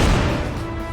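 Grenade blast in the video game Crysis Remastered: a single heavy, low boom at the start that rolls off into a fading rumble.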